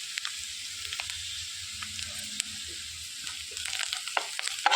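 Ginger garlic paste frying in a pan for a cauliflower pepper curry gives a steady, moderate sizzle with scattered crackles and pops, growing busier and louder toward the end, with no talking.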